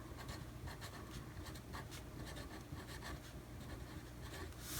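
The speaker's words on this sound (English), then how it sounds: "I am going to write in the days" Pen writing days into a composition notebook planner, faint close scratchy strokes in short irregular bursts, with no one talking.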